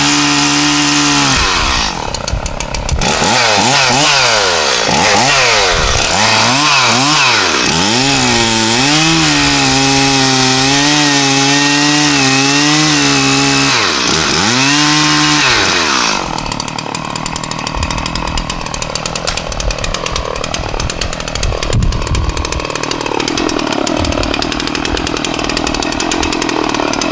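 Freshly sharpened chainsaw roaring at close range, its engine revving up and down in waves before settling into a steady, loud high idle and cutting drone for the rest of the clip.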